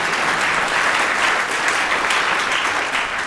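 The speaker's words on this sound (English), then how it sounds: "For a huge round of applause like that." A theatre audience bursts into dense, loud applause after a stage magic trick, a steady wash of clapping that holds evenly throughout.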